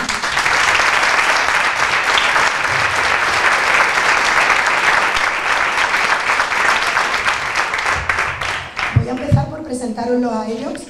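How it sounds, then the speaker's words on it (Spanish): Loud, sustained applause from a crowd at a municipal election candidacy presentation continues for several seconds, then fades as a voice begins speaking. "Merecen un aplauso."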